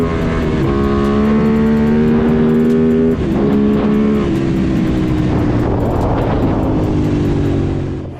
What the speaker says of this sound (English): ATV Yamaha Raptor plus an engine from a motorcycle KTM Super Duke 1290.